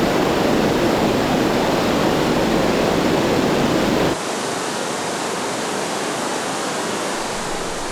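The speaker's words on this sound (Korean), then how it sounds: "콩구 폭포가 있는 이빈도강은 바닥 경사가 급해서 물살이 아주 셉니다." Kongou Falls on the Ivindo River in Gabon, where a steep riverbed drops in four tiers and pours powerful water. A loud, steady roar of falling water with no voices, its level dropping suddenly about halfway through.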